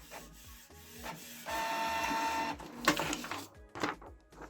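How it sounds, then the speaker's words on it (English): A Canon Pixma G3410 inkjet printer runs a test page, with quick mechanical ticks and clicks, then a sustained whirring feed stretch and a few louder clunks and rattles near the end, close by with no talk. "So it's printing a test page to confirm"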